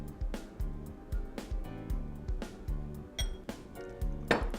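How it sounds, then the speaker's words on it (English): Maple syrup, mayonnaise and cracked black pepper stirred together in a bowl, a steady rhythm of regular clinking spoon strokes against the bowl, close and fairly soft, with a brighter clink near the end. "I'm going to stir this all together."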